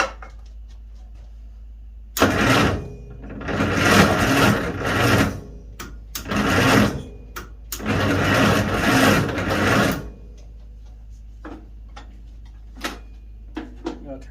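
An International 300 Utility tractor engine sputters and chugs in loud bursts that start and die out several times, then settles into light ticking.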